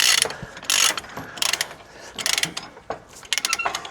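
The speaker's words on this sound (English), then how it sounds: "Now I'm tying this down 13mm chains." Big ratchet binders being worked to tighten 13mm tie-down chains securing a Liebherr LH40 machine on a trailer, giving loud, close, rapid bursts of metallic clicking and pawl rattles in irregular rhythm.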